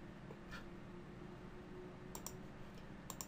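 Mouse clicks on a browser extension: a few faint, sharp clicks, one near the start and a cluster toward the end, over a quiet room hum.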